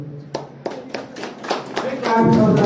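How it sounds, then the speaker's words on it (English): Sharp, separate hand claps ring out at a university law college moot court inauguration, about eight distinct smacks at an uneven pace before talking and a rising tone take over. "Big clap for Satish Chandra."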